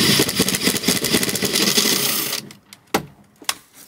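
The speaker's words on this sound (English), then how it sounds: "I'm just gonna use a drill bit, and I'm gonna go ahead and drill a small hole going out to the outside." A drill bit bores a small hole through a van's wall, a loud, rapid grinding whir for over two seconds that cuts off, followed by a few sharp clicks and knocks.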